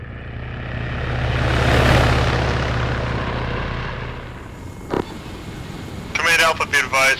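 Helicopter in the Arma 3 game sweeps past, its rotor roar swelling to a peak and then fading away, followed by a short thump and radio-style voices talking.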